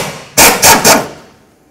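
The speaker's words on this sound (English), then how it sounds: "Let's start removing these using 13mm socket and wrench." A 13mm socket and wrench work loose a ball joint bolt, producing three sharp metallic clacks in quick succession that ring briefly and fade, close and loud with no voices.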